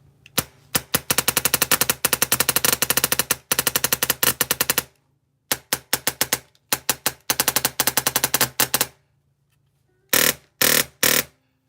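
Polarstar Jack engine airsoft gun firing in long rapid full-auto bursts of sharp snapping shots, loud and close, separated by short pauses and ending with a few short bursts.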